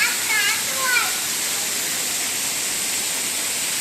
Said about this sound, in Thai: มาดูน้ำตก ที่ดุสิตธานีพัทยา นะครับ